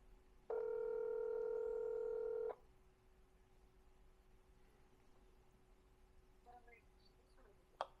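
A phone dials out with a steady tone lasting about two seconds, followed by faint tones and clicks over low room noise.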